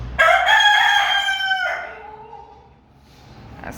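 A rooster lets out one loud, close cock-a-doodle-doo, and soft clucking from backyard laying hens follows as it fades.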